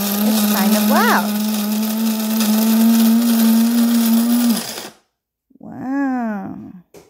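A Cuisinart Supreme Grind burr mill coffee grinder whirs loudly and steadily at close range for about five seconds before stopping, with a brief gap of silence; a voice speaks near the end.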